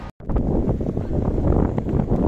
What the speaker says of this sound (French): il y a beaucoup de vent par là